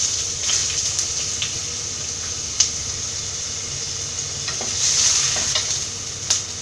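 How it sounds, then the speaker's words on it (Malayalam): Chopped ginger and garlic fry in hot oil in a pan for a Kottayam-style coconut fish curry, giving a steady close hiss and sizzle with a few spoon clinks and stirring scrapes. "എണ്ണ ചൂടായി വരുമ്പോൾ ഇതിലേക്ക് അരിഞ്ഞു വെച്ചിരിക്കുന്ന ഇഞ്ചിയും വെളുത്തുള്ളി ഇട്ട് കൊടുക്കാം."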